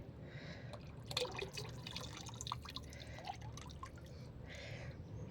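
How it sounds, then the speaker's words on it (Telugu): Fish waste is tipped into a tub already full of water, giving a run of small drips, splashes and pouring sounds close by, with a few brief wetter bursts. "ఈ టబ్బు నిండా వాటర్ ఉన్నాయి కదా, ఇందులో మనం ఈ ఫిష్ మనం కొద్దిగా వేద్దాము."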